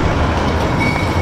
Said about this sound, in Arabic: هذاك هو المترو